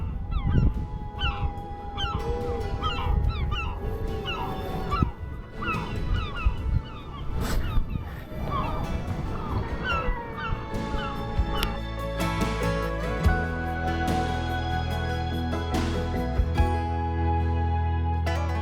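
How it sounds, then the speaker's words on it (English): Seabirds call and chatter continuously while feeding among seaweed on a rocky reef off the Scottish islands of Oronsay and Colonsay, with honking and yelping cries layered over a busy outdoor ambience. "the gentle chirp of bird life feeding amongst the seaweed"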